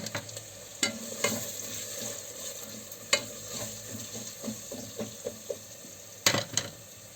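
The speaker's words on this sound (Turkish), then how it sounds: "Onları da soğanların içine karıştırıyorum ve güzelce soteliyorum." Diced potatoes and onions are stirred and sautéed in a pan for a pea stew, a soft steady sizzle broken by scattered scraping and clinking of a utensil against the pan, close and alone.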